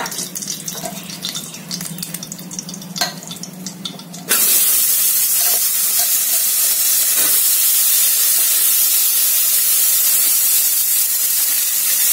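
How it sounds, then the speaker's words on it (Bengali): Potatoes dropped into hot oil left from frying fish, shifting after a few seconds into a loud, steady, hissing sizzle that fills the rest of the stretch, with earlier light clatter and no talk. "এই তেলে আমি এখন আলু ভেজে নেব।"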